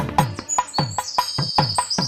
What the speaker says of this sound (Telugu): పందిట పిచ్చుకలు సందడి చేయగా